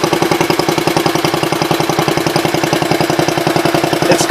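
An old Allis-Chalmers B10 tractor engine runs steadily with a rapid, even putter, loud and close, its firing rhythm throbbing without a break and no talk over it.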